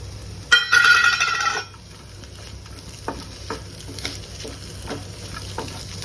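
Cashews and raisins drop into a hot pan and fry for a banana egg toast, with a loud burst of sizzling that fades into a quieter crackle and occasional light stirring clicks.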